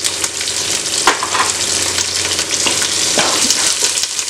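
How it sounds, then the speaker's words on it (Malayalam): A medium onion and green chilies frying in a pan for Kerala-style cabbage rice, a loud continuous sizzle with several scraping stirs of a spatula, close up and without talk. "ഇനി നമുക്കിതിലേക്ക് ഓണിയൻ ഇട്ട് കൊടുക്കാം"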